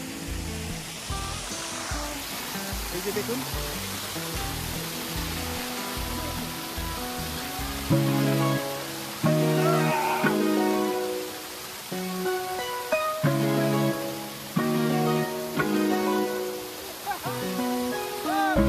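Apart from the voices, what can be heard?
Sahastradhara waterfall, Dehradun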